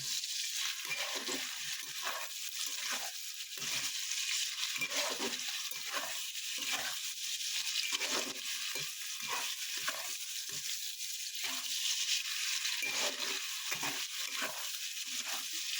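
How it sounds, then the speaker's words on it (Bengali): Carrots and beans sizzle steadily in a hot pan, with a bright continuous hiss and occasional soft scrapes of stirring. "এইভাবে গাজর আর বিনসে একটু ভাজা ভাজা করে নেবেন।"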